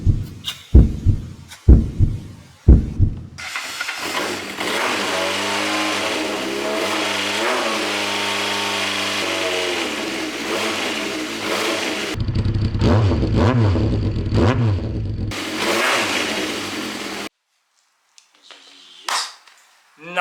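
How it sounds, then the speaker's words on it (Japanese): A Honda CBX550 motorcycle with a faulty starter motor that keeps spinning cranks with a few sharp attempts, then catches and idles loudly and close for several seconds with uneven revs, cuts out, and briefly stutters again before silence. "エンジンがかかるかやってみます"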